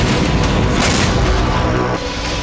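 A continuous, loud rumbling roar of heavy blasts, dense and booming throughout with no clear gaps, dipping slightly near the end.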